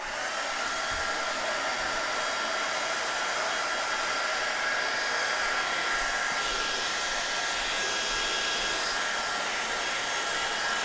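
A hair dryer blows on freshly painted rocks, a steady close-up rushing whoosh with a constant motor whine that runs unbroken for the whole stretch, with no talking.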